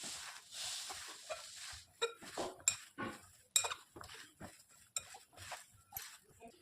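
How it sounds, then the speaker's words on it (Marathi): Soybean chunks being mixed with cornflour in a bowl, a spoon scraping and clinking against the dish in irregular close taps and rustles, fairly quiet. "अजून पुन्हा एकदा मी त्यात कॉर्नफ्लॉवर टाकते. पुन्हा आपण छान प्रकारे मिक्स करून घेऊ."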